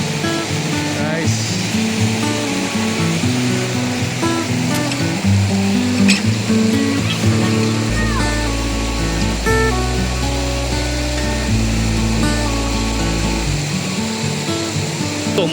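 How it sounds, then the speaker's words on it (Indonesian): A waterfall along the Ciherang river in hilly trekking country near Puncak Ciguntur, Bogor, pours with a steady broadband rush that stays loud throughout, with a deeper low rumble joining partway through. "Ada air terjun"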